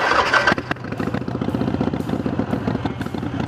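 Harley-Davidson Sportster motorcycle engine cranks over briefly, then fires up and settles into a loud, close, uneven idle with its characteristic lumpy, pulsing rhythm.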